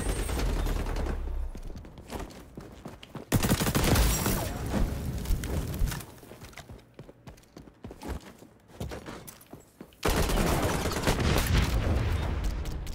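Bursts of gunfire from the video game XDefiant come in loud, dense volleys at the start, around four seconds and again near the end, with quieter stretches of game sound between.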